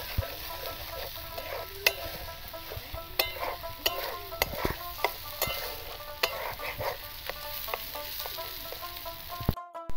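A spice masala for loitta fish jhuri fries in oil while a utensil stirs and scrapes it. A steady low sizzle runs throughout, punctuated by frequent sharp clicks and knocks of the spatula against the pan, with no talking.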